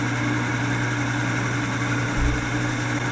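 Wood lathe spinning at about 1300 RPM while turning a small scrap piece, a steady close motor hum and whir with no pauses.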